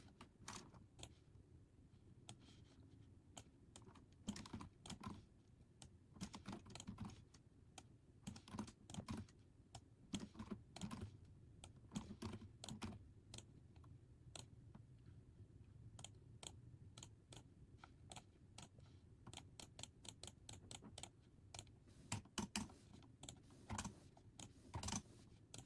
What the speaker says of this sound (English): I type the table name, table_1, and how many columns I want it to be.